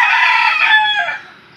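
Backyard rooster crowing once, loud and close, a single drawn-out cock-a-doodle-doo that trails off into quiet.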